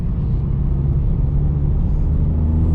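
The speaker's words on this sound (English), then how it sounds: "You actually get so much more induction noise with this for some reason." A steady, loud low-pitched engine roar with a constant rumble, the induction noise of a Ford Fiesta ST with a TRS Stage 1 remap accelerating, with no talking.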